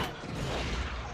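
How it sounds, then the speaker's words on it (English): Film explosion with helicopters being blown up, a dense, sustained rumbling blast that stays loud and broadband through the whole moment, with no pause. "Oh, man, another explosion."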